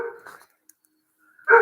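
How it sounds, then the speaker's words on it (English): A dog outdoors barks twice, one short muffled bark at the start and a louder, closer bark at the end, with near silence between. "And you got Mr. Barks a lot out there"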